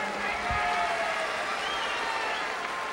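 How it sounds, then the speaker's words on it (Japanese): Fans at a baseball stadium keep up broad, continuous applause, a dense wash of clapping with crowd noise that holds loud and even for the whole three seconds. "ファンの人も今大きな拍手くださってますね。"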